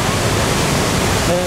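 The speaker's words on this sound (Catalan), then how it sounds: "És un espectacular salt d'aigua" Roaring Murchison Falls waterfall in Uganda, a dense broadband rush of water heard up close, steady and loud throughout the short stretch.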